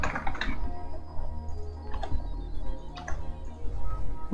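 Quick, uneven keystrokes on a computer keyboard as a password is entered, close and crisp clicks tapping in short bursts with small pauses, no talking.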